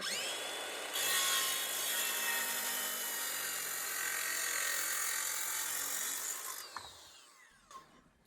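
A wooden deck board being cut with a power saw, a loud steady whine running for several seconds before the blade winds down and stops.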